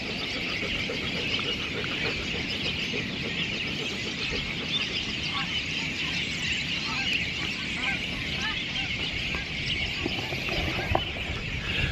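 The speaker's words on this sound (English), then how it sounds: "We have a ton of geese moving" A large flock of geese moving ahead of a weather front honks in scattered calls, distant and fairly faint, over a steady outdoor wash of wind and ambient noise.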